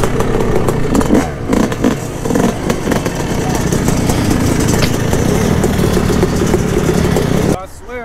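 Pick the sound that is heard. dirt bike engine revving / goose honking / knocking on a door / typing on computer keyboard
dirt bike engine revving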